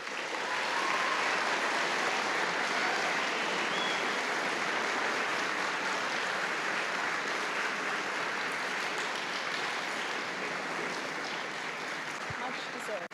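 Full, steady applause from a concert audience for school band and orchestra students, dense continuous clapping at constant loudness throughout, with crowd noise blended in.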